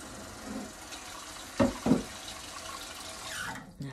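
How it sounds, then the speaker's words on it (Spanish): Water runs in a soft, gentle stream from a tap, a steady low hiss through most of the four seconds, broken by two brief louder splashes near the middle. "Este chorro está muy suave."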